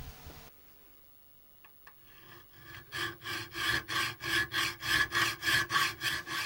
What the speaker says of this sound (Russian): поэтому воспользовался обычным напильником